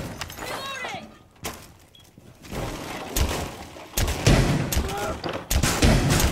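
Bursts of gunfire from a shooter video game crack out in irregular volleys, loud and close, with thuds between them and faint game sounds underneath.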